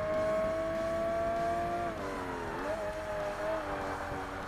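A race car engine in the Forza Motorsport racing game drones steadily at high revs, dipping briefly as it lifts off and then climbing again, loud and close with no talk over it.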